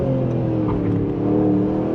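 Hand-built Aston Martin roadster on Michelin Pilot Sport S5 tires, its engine held at high revs in a steady, close, throaty drone with slight rises and dips.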